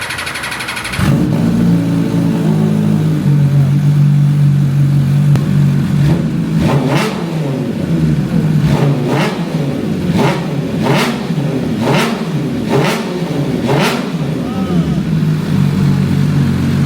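An MV Agusta Superveloce 1000 or 800 motorcycle engine starts, settles into a loud idle, then is revved in a series of sharp, evenly spaced blips before dropping back to idle.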